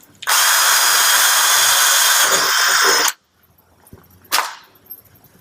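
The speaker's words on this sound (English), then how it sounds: "You can actually just put the patch on, drill right through" A loud, steady power drill runs for about three seconds through an aluminium boat hull patch, then stops abruptly, followed by a brief short whir of the drill starting again.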